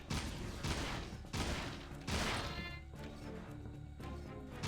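Rapid gunfire bursts crackle in the video game freeDive, several dense volleys of shots in close succession with crashing impacts, loud and continuous with no talk.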